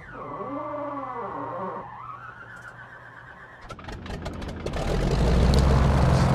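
Grumman F4F-4 Wildcat radial engine in Microsoft Flight Simulator, a starter whine rising and falling, then the engine catching with sputtering coughs and building into a loud, rough, steady rumble.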